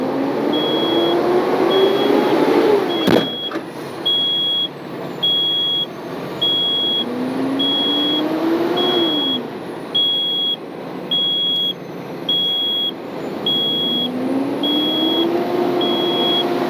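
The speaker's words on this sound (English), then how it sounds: "I'm going to put it at rated RPM between 15 and 2000 RPMs to get it to build up in the proper amount of time" A truck engine held at rated RPM, around 1500 to 2000, to build up air pressure; a steady close drone with rising and falling engine tones, a sharp knock near the start and a regular electronic beep pulsing throughout.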